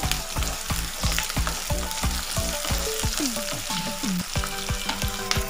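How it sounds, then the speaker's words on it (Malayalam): Finely chopped shallots fry in a pan for a tuna fish curry, giving a constant close sizzle with repeated scraping stirs and no voices. "ഇനി നമുക്ക് ഇതിലേക്ക് ചെറുതായിട്ട് അരിഞ്ഞ് വെച്ചേക്കുന്ന ചെറിയ ഉള്ളി ഇട്ട് കൊടുക്കാം ഇത് നമുക്ക് ഒരു 2 മിനിറ്റ് നന്നായിട്ട് മൂപ്പിച്ചെടുക്കാം"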